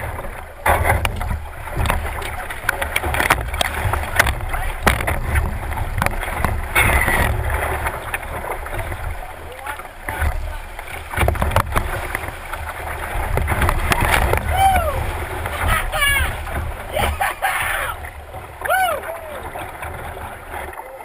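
Paddle strokes from a canoe on the water during a late-season trip in a wilderness park, with soft splashes and dips under steady wind and outdoor ambience, alongside a voice talking.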